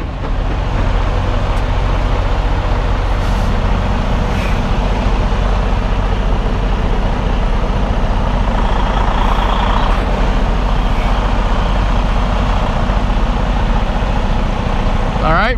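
A tandem-axle semi truck backing up, with a steady, close diesel rumble throughout and a brief air hiss near the middle; a voice talks over it.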